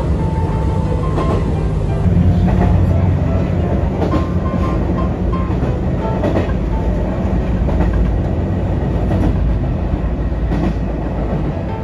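A train running along the old Nagasaki Line rumbles steadily along the rails, loud and close, passing through Nagayo Station, with rhythmic clatter and occasional higher metallic tones over a constant roar.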